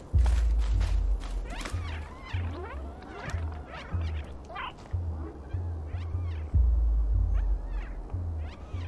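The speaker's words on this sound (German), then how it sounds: "In der Tonne läuft die Mieze langsam." A cat walking inside a barrel in the video game Stray, with soft repeated footfalls over a rhythmic low rumbling thump and scattered whooshing game effects.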